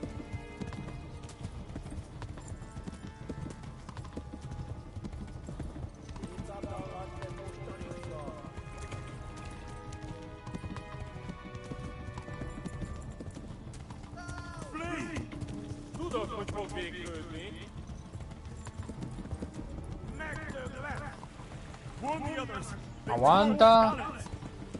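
A horse gallops with steady rhythmic hoof clip-clops in the medieval video game Kingdom Come: Deliverance, with occasional louder effects and faint voices alongside.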